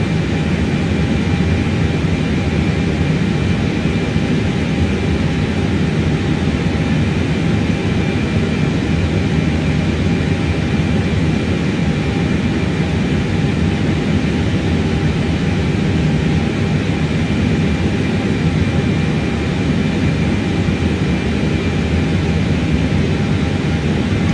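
Simulated airliner engines drone on approach to Madeira Airport in Microsoft Flight Simulator 2024, a loud, unbroken roar with a faint steady whine that holds evenly throughout, with no talk.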